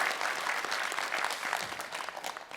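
A crowd of Incheon citizens in a TV studio applauds at a live New Year town-hall broadcast, a steady, moderately distant patter of many hands clapping without pause.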